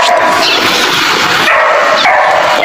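Dogs bark and yip repeatedly at fairly close range during an early-morning walk past scrubland, the barking loud and continuous with short whimpering yelps mixed in.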